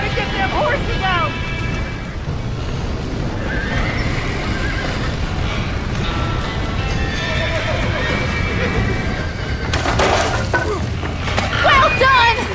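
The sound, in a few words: horses neighing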